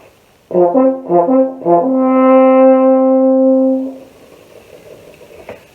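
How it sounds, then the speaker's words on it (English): A solo French horn plays a short hunting-style call: three quick repeated notes, then a long held tone that fades into quiet room noise. "Early on, the primary purpose of the horn was for hunters to communicate on hunting trips."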